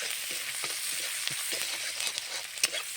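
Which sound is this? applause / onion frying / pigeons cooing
onion frying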